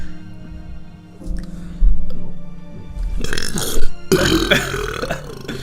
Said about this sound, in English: my brother has this talent where he could just burp on command